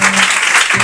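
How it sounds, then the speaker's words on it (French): Congregation applauding during a thanksgiving church service, a dense, steady wash of clapping hands filling the room. "On acclame pour ce monsieur."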